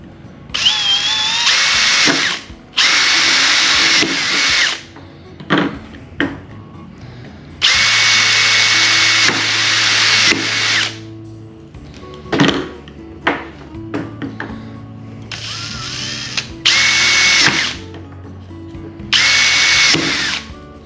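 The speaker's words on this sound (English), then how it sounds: "we're going to take a 1/4 inch drill bit. And we're going to drill down through our" Power drill with a 1/4 inch bit boring down through 1¼ inch PVC pipe and out the other side, several loud whirring bursts of a few seconds each separated by short pauses and small clicks, with no talking.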